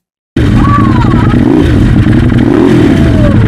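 A motorcycle with an open exhaust revs loud and close for several seconds, a rough, continuous roar with clattering undertones that starts abruptly.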